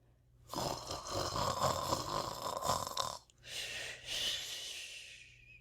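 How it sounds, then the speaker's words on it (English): A badger snoring steadily: two long, rasping snore breaths, close and fairly loud, with a short pause between them and no talking. "Tommy Brock snored conscientiously."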